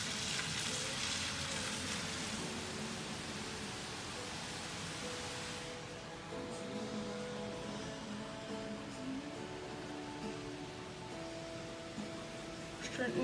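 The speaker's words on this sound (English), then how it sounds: "Starting to get the wind." Wind picking up on Prince Edward Island as Hurricane Dorian approaches: a steady broadband roar, harsh at first and then softer and duller, with a faint tonal hum beneath it.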